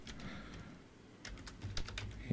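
HTML code is typed on a computer keyboard in a quick, close run of soft clicking keystrokes that come in uneven clusters, with no talking.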